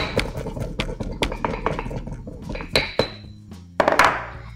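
Eight to ten peppercorns are cracked by hand, making a run of close, sharp clicks and knocks against a hard surface, ending in a louder crunching scrape.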